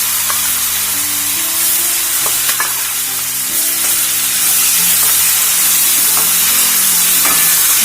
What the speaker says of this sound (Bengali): চিংড়ি মাছ কিন্তু খুব বেশি ভাজবো না, জাস্ট একটু এদিক ওদিক করে আমি কিন্তু মাছটাকে তুলে ফেলবো